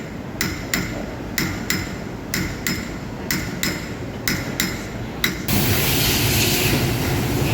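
Craftsmen hammering pewter at a pewter visiting centre in Kuala Lumpur, a steady series of close, bright metallic taps at a brisk even rhythm, giving way to a broader continuous wash of noise near the end.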